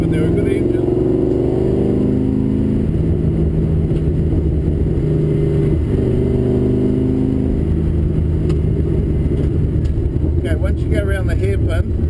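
A VY or VZ Holden-era 5.7 litre V8 car engine runs at a steady cruising pace on the Pukekohe race track during a hot lap, its loud continuous drone filling the cabin beneath ongoing talk.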